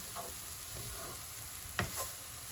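Leftover rice and vegetables for veg fried rice are stir-fried in a hot pan, giving a soft steady sizzle broken by a few scraping stirs, one sharper than the rest near the end, with no talking.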